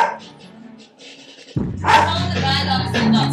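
After a quiet stretch, a dog kept outside at night barks and yips loudly and close, with a voice talking along with the noise.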